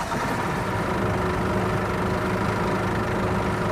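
Bus engine running at idle in the driving simulator The Bus, a steady low diesel rumble with a constant droning hum, even and unbroken throughout.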